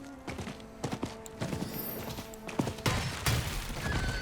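Horse hooves in Diablo 4 clip-clop in a steady, uneven run of sharp thuds, fairly close and alone in the mix, with a few louder hits toward the end.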